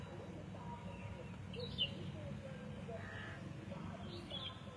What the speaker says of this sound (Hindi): आज चिड़िया खूब बोल रही हैं